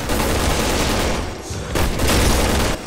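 Heavy sniper rifle shots in Resident Evil 6, loud booming reports that fill the clip with dense crackling gunfire and impacts, one burst after another with no gap, in a co-op shooter firefight.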